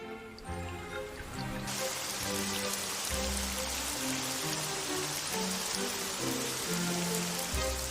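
Heavy anime downpour hisses steadily and densely throughout, with a musical score playing underneath the rain.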